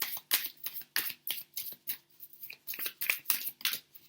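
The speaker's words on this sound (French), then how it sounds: "On va prendre une carte." Cards from an oracle deck are shuffled in a quick, rhythmic series of close, crisp riffling snaps with brief pauses between them.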